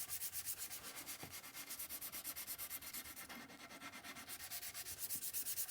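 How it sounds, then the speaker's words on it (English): Steady back-and-forth sanding of wood with a 120-grit sanding block over wet glue, a rhythmic rasping scrape repeating several times per second, close and continuous with no voices. "while that glue is still wet, we're going to come with the sanding block"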